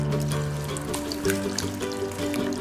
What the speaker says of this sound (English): I'm going to use a ladle to get our egg mixture into a greased muffin pan.